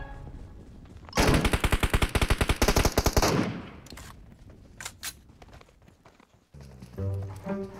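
Machine gun fire in the mobile battle royale game PUBG Mobile, a loud rapid burst of about two seconds, followed by a few scattered single shots and other game sounds.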